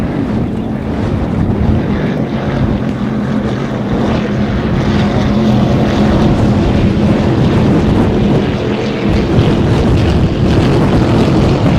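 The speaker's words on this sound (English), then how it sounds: "pleasure boat running pretty hard up the backstretch right there" A pleasure boat runs hard across the water at a lake race course during the 2013 Solar Cup, its loud, steady motor roar carrying on without a break under heavy wind buffeting.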